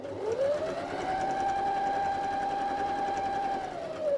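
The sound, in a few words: sewing machine stitching fabric for a zipper bag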